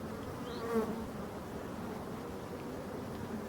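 Honeybees on the hive comb hum in a dense, continuous buzz close by, with one brief rising drone as an insect passes near, the whole sound soft and even.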